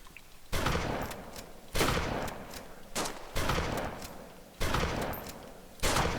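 Shotgun and rifle fire in the survival game DayZ, heard as about six sharp, loud blasts at irregular intervals, each trailing off before the next.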